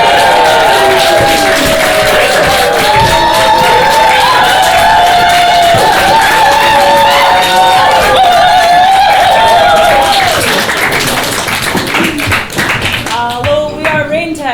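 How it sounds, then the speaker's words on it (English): An audience at an improv night in a Glasgow theatre cheers, whoops and claps for the improv team Raintown, loud and sustained, with a voice calling over it before the noise fades into scattered claps. "Please give a big cheer for Raintown!"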